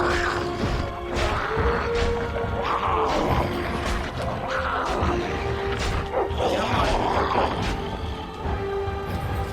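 A dog barks repeatedly in Dragon Age: Origins, several sharp barks spread over the scene amid game combat crashes and clatter, loud and fairly close.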